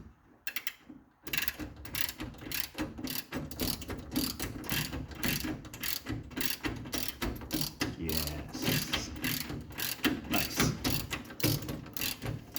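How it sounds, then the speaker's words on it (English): A ratchet wrench clicks rapidly while turning a steering rack bolt on a Triumph TR3, after a brief quiet start, with dense, steady, close-up ticking that continues throughout. "All I'm going to do is make sure it just ratchets in."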